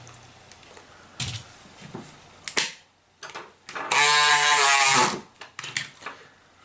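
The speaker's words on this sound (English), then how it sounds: "Screwdriver in here, lever up this side, and lift" A screwdriver pries at the plastic casing of a Braun Series 3 340 electric shaver, giving several sharp clicks and creaks, then about a second of loud buzzing as the shaver runs, followed by more small clicks. Everything is close up.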